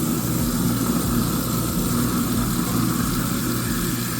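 A garbage disposal runs with water and soap in a kitchen sink, a steady loud grinding whir with a low motor hum and watery churn throughout, with no voices.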